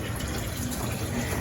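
Water running steadily from two hoses into a tank, a continuous broadband gush of filling liquid with no talk over it.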